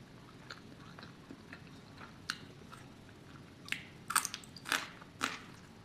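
Sweet, crunchy flat beans being chewed at a home meal with rice: soft, irregular crunching bites close up, growing louder and sharper toward the end.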